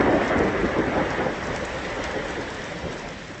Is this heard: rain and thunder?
yes